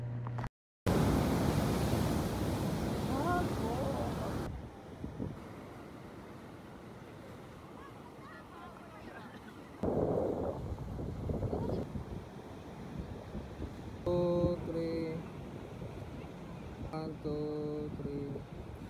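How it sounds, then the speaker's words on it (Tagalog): Sea waves at a beach in Mati City, Davao Oriental, roaring as steady broadband wash with wind buffeting the microphone, swelling again midway, while voices and a brief tonal sound cut in near the end. "Irinig ko sa inyo yung tunog ng dagat."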